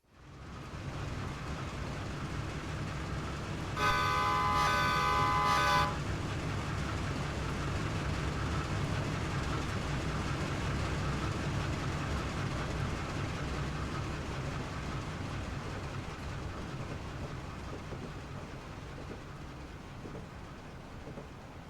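An Amtrak P30CH diesel locomotive in Train Simulator sounds a loud multi-tone horn for about two seconds, then its engine rumbles on steadily alone with rail noise for the rest of the stretch.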